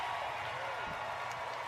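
Crowd applause at the Final Fantasy XIV Fan Festival 2026 in Anaheim, a steady wash of clapping from a large audience filling the short clip.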